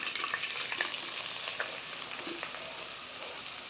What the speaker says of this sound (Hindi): इसको अच्छे से फ्राई करेंगे हम घी में, जब तक इसका कलर चेंज ना हो जाए।